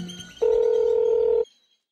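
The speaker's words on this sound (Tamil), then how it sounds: "சரி ஒரு ஃபோன் வருது, நான் வரேன்." A phone sounds an incoming call in a Tamil short film, a single sustained electronic tone of about one second, loud and clean, then cutting off to silence.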